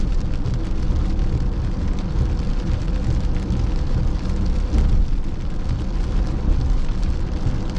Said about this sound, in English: raining quite hard now. Really, really hard, to be honest.